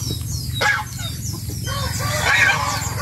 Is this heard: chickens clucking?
yes